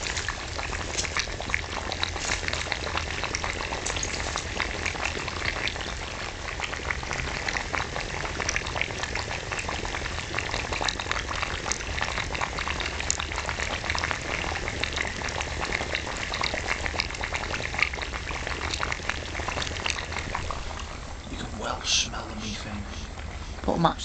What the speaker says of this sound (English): That bubbling puddle that we were looking at the other day with the methane coming out